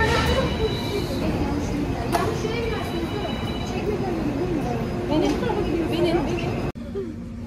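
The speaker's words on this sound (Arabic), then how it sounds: "دابا غنركبو المترو ونرجعو" Rumbling Istanbul metro train noise with rattling carriages and the murmur of people talking nearby, ending abruptly as the sound cuts off.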